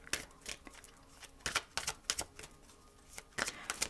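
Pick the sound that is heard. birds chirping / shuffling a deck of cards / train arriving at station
shuffling a deck of cards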